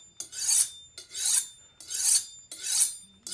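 A vegetable kitchen knife drawn along a sharpening steel, four long rasping strokes in an even rhythm, each swelling then stopping, close and clear with no talk.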